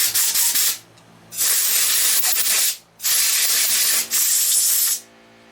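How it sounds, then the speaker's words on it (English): Compressed air blasts through the carburetor of a 1972 Coleman 200A lantern in three loud, sustained hissing bursts with short pauses between them. "Using compressed air to back up what you just did with the carb cleaner."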